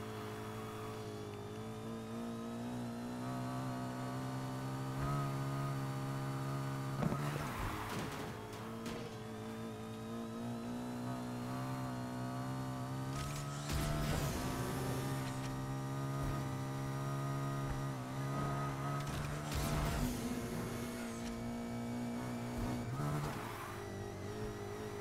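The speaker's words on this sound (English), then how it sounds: "Really hard race with me racing supercars." Supercars race in Need for Speed Heat, with a loud, sustained engine drone that climbs and drops in pitch through gear shifts, and bursts of louder revving and whooshes scattered throughout.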